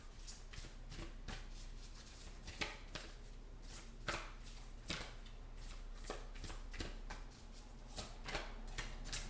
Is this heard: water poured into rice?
no